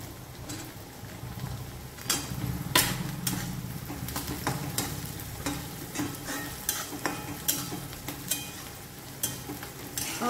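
Golden-brown onions and green chillies sizzle in a hot pan while a spatula stirs them, giving a steady frying hiss broken by regular scraping strokes and clinks, close and with no talking.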